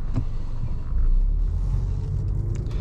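A 2022 Jaguar XF R-Dynamic SE with the P300 powertrain driving along a road, heard from inside as a steady low engine and road rumble.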